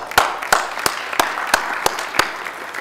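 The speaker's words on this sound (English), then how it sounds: "Applause." Audience applause at an academic conference session at Wartburg College, Iowa, a steady wash of clapping with regular sharper claps standing out, moderately loud and without talk.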